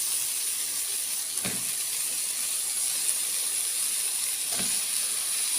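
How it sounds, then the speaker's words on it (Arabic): Chicken wings dropped into a hot pan with onion, pepper and salt, giving a steady broadband sizzle and hiss throughout, with two brief louder crackles as pieces go in. "هنبتدي بقى نحط الفراخ الجوانح ديت."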